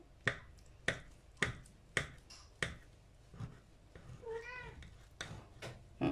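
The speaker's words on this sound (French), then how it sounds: "Ça intéresse les chats aussi." A cat meows once, a drawn-out wavering cry, amid a series of sharp regular snapping or tapping clicks nearby.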